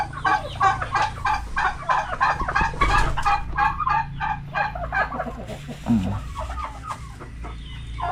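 Chickens cluck repeatedly at close range on a farm, one hen fussing near her eggs in a nest, with steady rhythmic clucks and a low background rumble.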